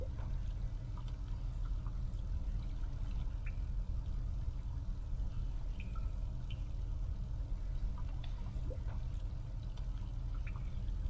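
Steady, continuous liquid flow as water pours into a tank in the adventure game The Longest Journey, a dense watery wash with faint drips running throughout at moderate level.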